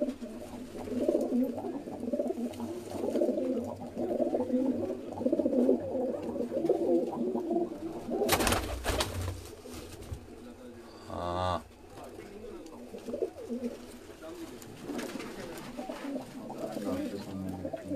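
Lakhi breed pigeons on a rooftop loft coo in low, continuous rolling murmurs, joined by a sharp burst of noise midway and faint voices in the background.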